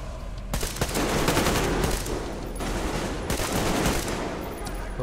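Automatic gunfire in Metro Exodus, a magazine emptied in two long, loud bursts of rapid shots with a brief pause between them.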